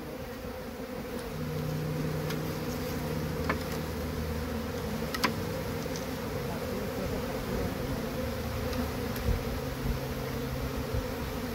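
Honey bees buzz in a dense, steady drone over a comb frame, close and continuous, with occasional light ticks and clicks and a faint low hum underneath.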